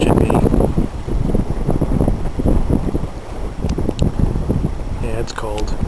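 Cold gusting wind buffets the microphone on the shore by Old Scituate Lighthouse and reef in Scituate, Massachusetts, a loud continuous rumble throughout.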